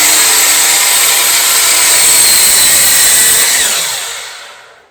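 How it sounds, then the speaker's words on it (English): A power saw spun up to full speed cuts through wood during a home recording studio build, a loud, close, sustained whining rip that fades as the blade winds down, with no talking. "you want the saw blade to build up RPMs, and once it builds up to its full potential, that's when you come down and make your cut"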